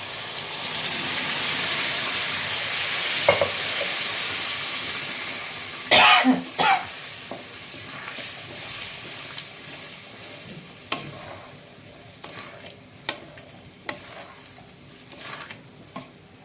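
Chana dal tipped into a pot of salted water for boiling, with steady bubbling and hiss throughout and a cluster of sharp clatters and splashes near the middle, then scattered light knocks.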